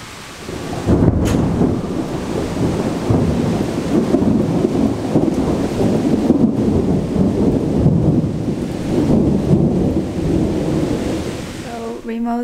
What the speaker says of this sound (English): This is a storm outside right now.